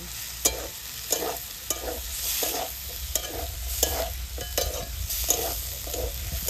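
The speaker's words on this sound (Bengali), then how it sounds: "এবার আমি পোস্ত আর কাঁচা লঙ্কা বাটা দিয়ে দেব। ভালো করে নেড়ে নেব।" A spatula stirs drumstick flowers with poppy seed and green chili paste in a sizzling pan, with regular scraping strokes roughly every half second over a continuous close frying hiss.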